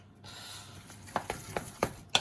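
Eggs are beaten by hand into choux pastry dough, with a series of soft wet slaps and knocks against the bowl at an uneven rhythm, close and fairly quiet.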